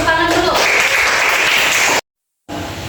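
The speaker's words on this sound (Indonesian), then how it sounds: "Berikan tepuk tangan dulu." Students in a classroom clap together loudly for about two seconds, then stop abruptly, and the noise of the room returns after a short silence.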